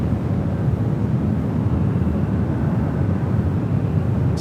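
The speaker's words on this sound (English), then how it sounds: "to the Emirates A380 Super." An Emirates Airbus A380 airliner at San Francisco airport, a continuous low rumbling roar of jet engines heard from a distance, steady and unbroken with no voices.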